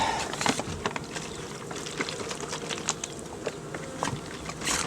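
Honeybees hum and buzz in an open hive during an early spring inspection, a dense close swarm drone with individual bees flying past, alongside light tapping and handling noises.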